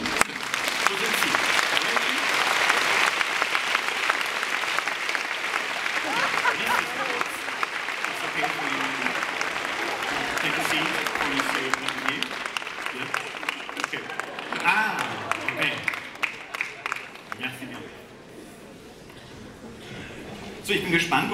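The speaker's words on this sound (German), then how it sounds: "dann bitte ich noch mal um einen großen Applaus" An audience at a German youth literature award event gives a long, full round of applause that stays strong for most of the stretch, dips briefly near the end, then swells again, with voices talking underneath.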